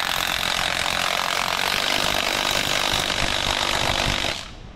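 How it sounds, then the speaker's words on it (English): An impact wrench tightens a strut nut on a Cadillac's suspension with a continuous, loud, close rattling hammer that holds steady for several seconds and then cuts off abruptly. "The audible change in impact indicates that that nut has now bottomed out"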